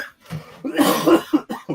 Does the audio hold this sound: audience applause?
no